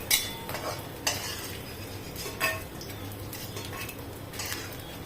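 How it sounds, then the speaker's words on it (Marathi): Edible gum (dink) frying in a pan: a faint, soft sizzle under a few scattered stirring scrapes and light utensil clinks against the pan, quiet and close. "असा थोडा थोडा करून भाजायचा तो तळून घ्यायचा"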